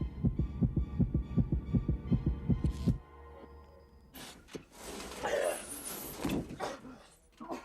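Heartbeat sound effect from the film Gattaca: loud, steady, evenly spaced thumps, about nine beats over three seconds, then it stops and gives way to other film sound and voices.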